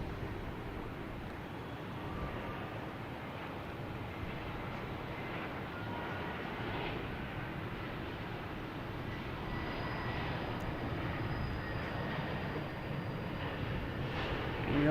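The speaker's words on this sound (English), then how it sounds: "next to arrive is a JetBlue and A320 coming in from West Palm Beach" A JetBlue Airbus A320 jet arriving from West Palm Beach at Boston Logan, heard as a steady, broad distant roar holding evenly across the whole stretch, with no speech.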